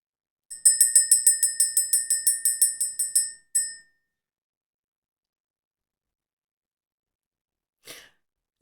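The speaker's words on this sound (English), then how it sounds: "Let's ring the bell, clear the energy" A bell rings in a rapid series of about a dozen bright, ringing strikes, then one final strike, followed by silence and a brief breathy sound near the end.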